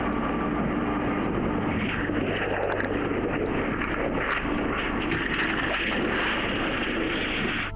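Broad roaring jet noise with wind rumble, steady and loud, as an aircraft rolls along a runway at Scottsdale, Arizona airport after its left main landing gear failed.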